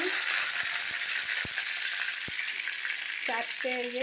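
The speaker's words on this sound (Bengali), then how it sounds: "তেল দিয়ে দুটো তেজপাতা, এই যে একটু দারচিনি" Bay leaves and cinnamon sizzling in hot oil in a kadai, a steady fry hiss with a few sharp utensil taps and clinks, plus brief tonal squeaks near the end.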